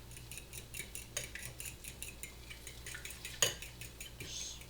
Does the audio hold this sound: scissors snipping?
no